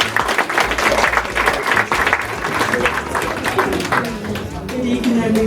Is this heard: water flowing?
no